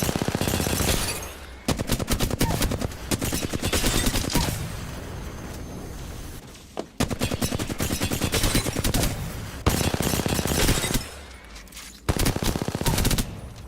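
Rapid automatic gunfire in the Apex Legends video game, loud sustained bursts of fast shots broken by short pauses, repeating several times up close with no talking.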